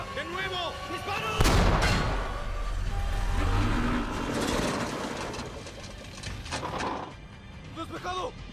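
Sherman tank cannon firing in a battle against a Tiger I, one heavy booming blast early on with engine rumble and further explosions beneath shouted voices in a chaotic war scene.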